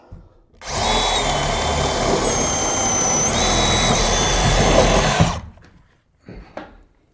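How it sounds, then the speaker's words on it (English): A power drill whines steadily for several seconds at close range, its pitch shifting slightly as it bores, then stops, followed by brief handling noises. "such a nice way to drill a hole"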